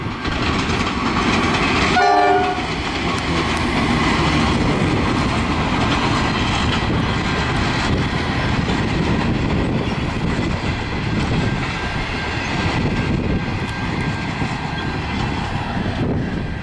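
The Overland passenger train, led by locomotive 64 and running late, rumbles past loud and close with continuous wheel and rail noise, its horn sounding briefly near the start.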